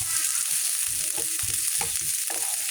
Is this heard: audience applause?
no